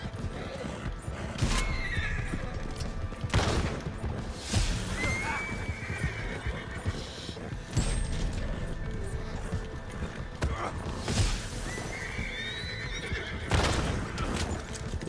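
Horses in the video game Red Dead Redemption 2 gallop and neigh during an intense race, with repeated loud whinnies over rapid hoofbeats and occasional excited talk from a player.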